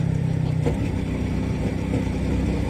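A motorcycle engine drones steadily from the rider's own position, with wind noise rushing over it, loud and continuous without speech.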